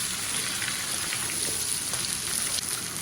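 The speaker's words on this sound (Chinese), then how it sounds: "就这样给它翻炒个2分钟" Pork and radish slices stir-fry in a wok, giving a steady, close sizzle with scraping and tossing accents throughout.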